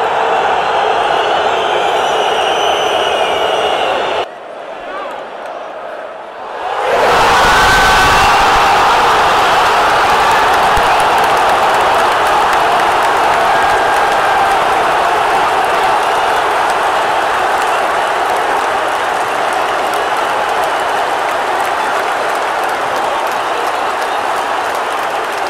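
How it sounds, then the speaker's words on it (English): Large football crowd at a Djurgården v Malmö Allsvenskan match, a dense, sustained roar of booing and jeering filling the stadium, briefly dipping before surging back loud and continuous. "The booing is just crazy when Malmö have the ball"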